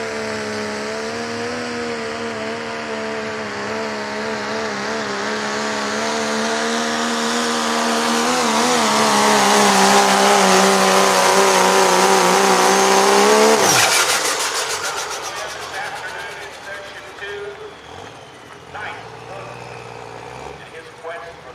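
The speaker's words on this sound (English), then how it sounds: "Megatron, limited pro diesel pickup." Megatron, a limited pro diesel pickup, roars down a drag strip at a racing event, its engine swelling from a steady drone to a loud peak as it passes close, then cutting off abruptly and fading away.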